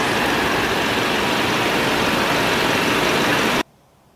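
A Ford Explorer's four-cylinder 2.3-liter engine runs with a steady, loud, broadband whir and hum under the hood, then cuts abruptly to near silence.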